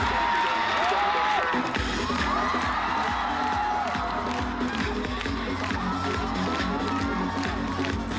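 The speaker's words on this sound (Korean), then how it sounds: "여러분 많이 호응해 주시고 박수로 많이 해주시기 바랍니다." A packed audience at a Korean stage event claps and cheers continuously, a dense roar of applause with whoops and shouts rising over it, loud and close.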